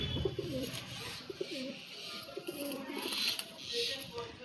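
Gola line pigeons coo in soft repeated throaty phrases close by, with quiet chirps and background rustle and a person speaking faintly.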